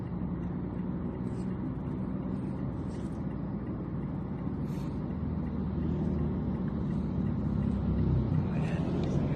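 A tricycle passes by on a road, a steady low engine rumble and traffic noise holding at a constant level throughout, with faint voices nearby.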